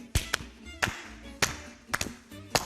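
Hands clap sharply in a Cossack dance step, five crisp claps in a loose, uneven rhythm, close and clear, with small taps between them.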